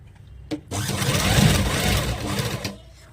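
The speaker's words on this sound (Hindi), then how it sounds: "तो देखिए इस तरीके से मैं आपको स्टिचिंग करके दिखा देती हूँ, पूरा फाइनल कर लेती हूँ" A sewing machine stitching a palazzo pant, running in one steady whirring burst of about two seconds, close and loud, with a small click before it and quiet handling afterward.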